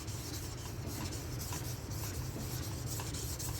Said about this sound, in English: Not the stones clanging, but the scratchiness. Now we're hitting that steel.